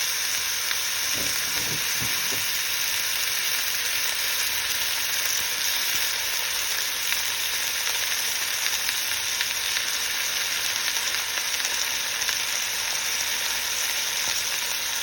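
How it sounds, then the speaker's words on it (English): Steady, loud sizzling of a beef roast searing in a hot pan, a continuous crackling hiss with a few brief clinks early on. "So let's get our roast into brown on both sides. You're gonna hear that sizzle."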